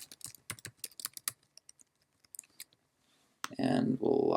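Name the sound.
typing on a computer keyboard to log in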